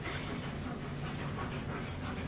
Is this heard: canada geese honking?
no